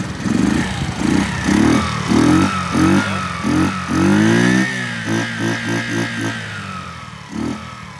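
A small Superlet motorcycle engine, started cold on its electric starter, revs up and down in a series of short throttle blips, then settles into a rough idle, loud and close.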